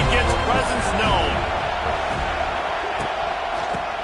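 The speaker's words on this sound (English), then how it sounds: "This crowd ready to make its presence known." Stadium crowd in the college football video game CFB 26, a dense roar of many voices with whoops and cheers rising near the start and holding steady, with a commentator's voice over it.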